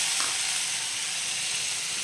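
Water poured into spice paste frying in a pan, a steady bright sizzle and hiss that holds evenly throughout, close and alone.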